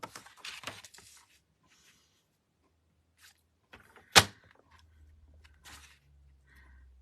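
A paper trimmer slices diagonally through a card rectangle with one short, sharp swish, close and crisp, after a few seconds of soft paper rustling and near silence.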